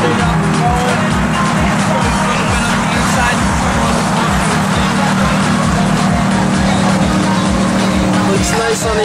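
A Ferrari engine idles nearby, a loud steady low rumble with a rapid pulsing throb that holds even for nine seconds, with no talk over it.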